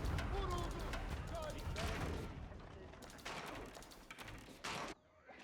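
Gunfire from units in the real-time strategy game Age of Empires 4 crackles in dense, repeated volleys at moderate level, with a narrator talking over the battle sounds.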